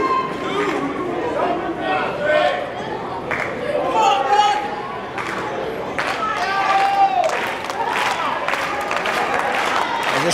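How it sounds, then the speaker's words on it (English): A wrestling crowd at a Lance Anoa'i versus Austin Gunn match murmurs, claps and cheers in a steady swell, with a commentator talking over it throughout. "this crowd here really trying to get into this match and rally around Austin Gunn"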